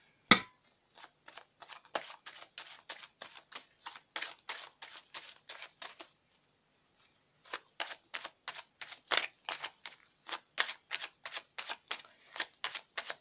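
Tarot cards are shuffled and drawn in quick, soft crisp flicks, coming in rapid bursts with a short pause midway, close and fairly quiet with no talking.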